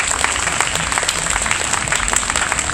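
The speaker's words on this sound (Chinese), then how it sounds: "我们先给他们一点掌声好了" A crowd at an outdoor jazz festival stage applauds a university jazz big band, giving dense, steady clapping throughout.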